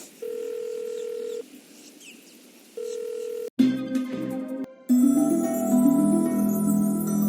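A steady electronic telephone tone sounds in two long bursts separated by a pause, followed by louder game sounds and a sustained ambient hum.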